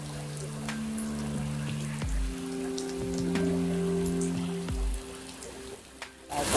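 Heavy rain falling during a road trip toward Jakarta, a steady dense hiss of drops drumming on a surface under a low vehicle hum, with faint murmuring voices in the background.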